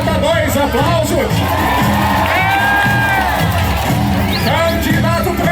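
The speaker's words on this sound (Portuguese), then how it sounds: "Candidata 2, aplausos." Carnival crowd at a Moonwalker costume contest cheering and applauding loudly for a contestant, with shouts and whoops over a dense, continuous roar of voices and clapping.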